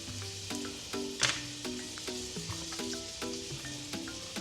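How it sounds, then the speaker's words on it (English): Butter for Tuscan chicken simmers in a pan, a low steady sizzle and crackle with a brief louder burst partway through, while background music plays softly. "You're gonna let that simmer"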